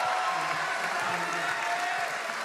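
A crowd at a climbing World Cup lead final in Kranj applauds and cheers steadily for a climber, forming a continuous wash of clapping and voices.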